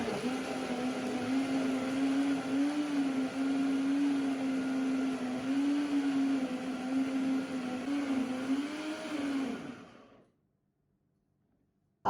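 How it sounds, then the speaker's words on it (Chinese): A high-speed blender on a low setting whirs steadily while crushing steamed pumpkin, leftover rice and hot water, a continuous motor drone that cuts off abruptly near the end, leaving silence. "用破壁机开低档先给它打碎"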